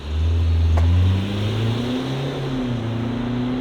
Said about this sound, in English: just do our acceleration test as well at the same time